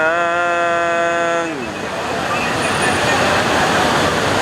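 Light rain on a busy street in front of Pavilion Bukit Bintang, Kuala Lumpur, in the late afternoon: a steady wash of road traffic noise opens with a sustained electronic tone that slides downward and stops, and constant traffic noise follows.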